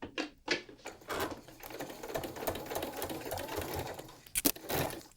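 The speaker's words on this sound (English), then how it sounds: "So let's go to the sewing machine" A sewing machine stitches fabric for a toddler bib, its needle running in a quick, continuous mechanical chatter with a few brief pauses, close and moderately quiet, with no voices.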